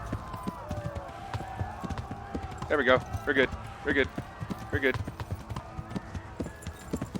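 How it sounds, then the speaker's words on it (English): Horse hooves clip-clopping in the video game Kingdom Come, a quick rhythmic run of hoofbeats heard under someone talking, with other game sounds around them. "Get on the horse. Fucking run."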